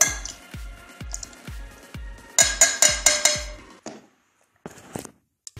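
A spoon stirring a spoonful of table salt into vinegar, giving a run of regular close clinks and scrapes against the container, louder and quicker in the middle, then a pause and a few light taps.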